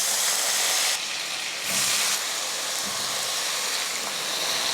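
Potatoes fry in hot oil with mustard seeds, urad dal and curry leaves, a loud, close, steady hiss that briefly dips and surges as the pan is handled.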